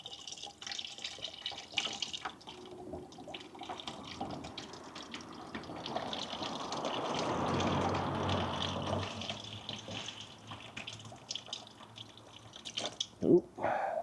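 Warm liquid from a sterling silver refining batch is poured off into a wastewater container, making a steady splashing, trickling pour that swells in the middle and then tapers off, with a sharp clink near the end.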